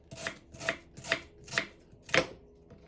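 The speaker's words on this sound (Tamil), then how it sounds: "வெங்காயத்தை இப்படி மெல்லிசாக சின்ன சின்ன துண்டுகளாக நாங்கள் இப்படி வெட்டி எடுத்து வைப்போம்" A knife chops onion into thin pieces with five crisp, evenly paced cuts on a board, close and clear with nothing else around.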